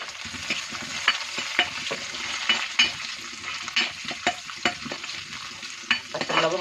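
Green chillies and curry leaves fry in a pan for a Malayali fish curry, a constant sizzle broken by repeated sharp scrapes and taps of a spoon stirring, close and without talk.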